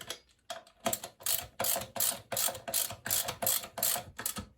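A ratchet tightens the sprocket nuts on a Kawasaki Z1000 during a chain and sprocket replacement in a garage, clicking out about ten quick, close strokes in an even rhythm.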